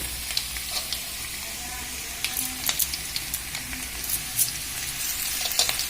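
Spice paste hits hot oil in a pan for a Mithila-style potato and pea curry, giving a steady, lively sizzle with crackling pops and a few stirring sounds, close and fairly loud.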